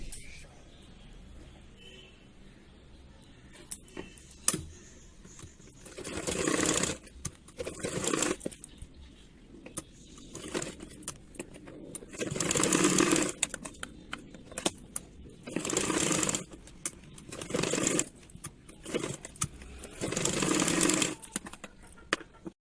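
A sewing machine stitches the shoulder seam of a princess-cut blouse, joining back and front pieces, running in several loud, sustained bursts separated by quieter pauses with fabric handling.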